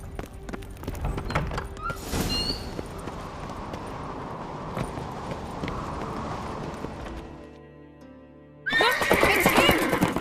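A horse whinnies loudly near the start and again sharply at the end, with hooves clip-clopping and shuffling in between, set in a medieval-style manor scene.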